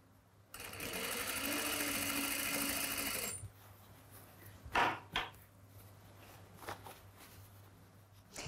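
A sewing machine stitches a facing onto a denim tote bag, a close, fast steady whirring burst of about three seconds, followed by quieter handling noises and fabric rustles.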